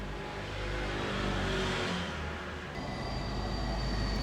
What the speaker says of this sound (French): C'est un bus.